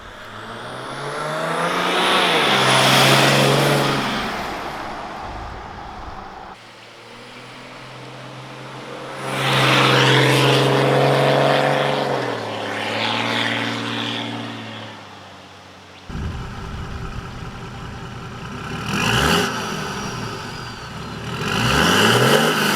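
A Toyota Land Cruiser 100 series fitted with a Legendex exhaust revs loudly from outside in three separate takes, each climbing and falling in pitch, with a deep, throaty exhaust tone and no talking.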